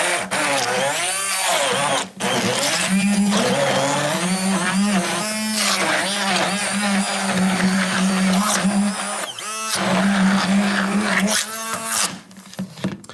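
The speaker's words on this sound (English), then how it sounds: "I'm going to start blending this, and I'll add the beer as I need it" A handheld stick blender whirs steadily through a thick blue cheese beer dip, a loud, continuous motor drone that briefly cuts out near the two-second mark and sputters again toward the end.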